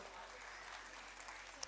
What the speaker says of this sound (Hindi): हम इनका तालियों के साथ अभिवादन करते।